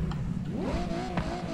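A Ferrari F8 in Forza Horizon 5 revs up, its engine note climbing sharply in pitch, then holding a steady, smooth high whine. It is close and fairly loud, with no talk.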